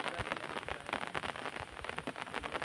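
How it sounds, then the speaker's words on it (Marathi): Light rain falling in a forest near a small waterfall, a soft, dense patter of drops on leaves, steady and faint throughout. "पाऊस आहे थोडासा"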